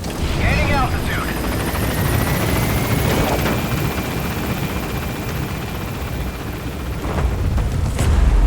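A Pequod helicopter in Metal Gear Solid V: The Phantom Pain climbs away with a steady, loud rotor and engine drone that runs throughout, swelling slightly near the end, with faint game effects and a thin high whine overhead.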